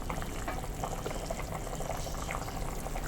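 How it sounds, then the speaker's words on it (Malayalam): Jackfruit seed curry bubbling in a pot, a dense burble of popping bubbles that keeps a steady, close rhythm throughout. "നമ്മുടെ കഷ്ണങ്ങളിവിടെ നല്ലപോലെ തിളച്ചിട്ടുണ്ട്."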